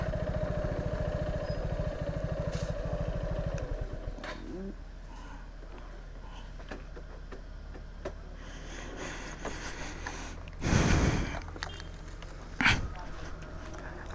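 A motorcycle pulling up to park on the road to Sajek Valley idles with a low, steady rumble for a few seconds, then the engine cuts off, leaving quiet outdoor ambience with brief bursts of voices and scuffs.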